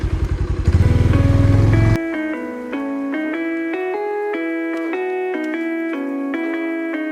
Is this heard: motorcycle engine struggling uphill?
yes